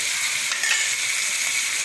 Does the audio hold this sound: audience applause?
no